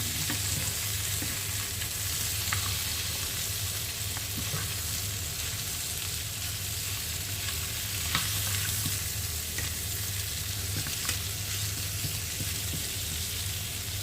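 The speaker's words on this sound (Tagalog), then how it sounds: "Halo lang natin mga karosas para lang magisa siya para mas lalong masarap ang luto natin." Food sautéing in a pan while being stirred, a loud continuous sizzle close up with occasional scraping and clicks of the utensil, steady for the whole stretch.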